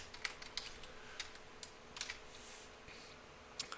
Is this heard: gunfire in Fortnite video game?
no